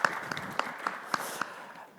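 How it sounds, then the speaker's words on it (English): Applause from an audience at an EU fintech start-up pitch event, a fairly faint wash of clapping with a few sharper claps standing out, steady then slowly fading. "Can I applaud her once again?"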